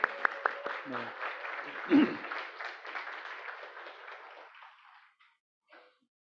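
A church congregation applauds two students who have stood up, moderate clapping with a voice over its start that gradually fades and stops near the end.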